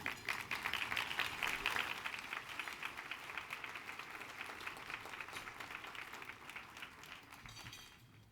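Audience applause welcoming a speaker to the stage, a sustained roomful of clapping that is strongest early and slowly thins before fading out near the end.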